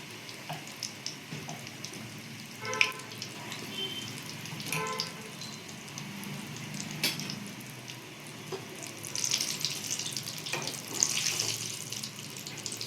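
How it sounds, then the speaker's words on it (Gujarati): Batata vada balls fry in hot oil at medium heat, giving a steady, soft bubbling hiss with occasional crackles and light splashes, close and fairly quiet. "જોઈ શકો છો એકદમ સરસ ગોળા થઈ ગયા છે, તળાય છે."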